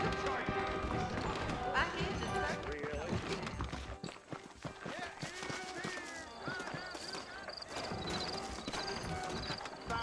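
Horse hooves clip-clop in a steady trotting rhythm in Red Dead Redemption amid busy game sound effects and music, with voices talking over parts of it.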